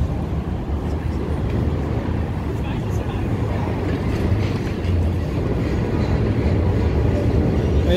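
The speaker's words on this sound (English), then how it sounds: "Another train." A train rumbles past on the elevated tracks near Lake Street and Wabash Avenue in downtown Chicago. The low, steady roar is loud and close and runs continuously, with faint clatter on top.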